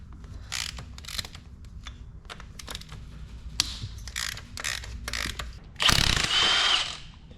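A ratchet clicks in quick, uneven bursts as a stud backs out on a Nissan RB25 engine in a C33 Laurel, then a louder rasping, grinding pull near the end.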